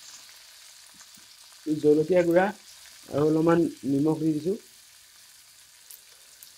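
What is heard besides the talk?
frying onions and tomatoes with spices in a pan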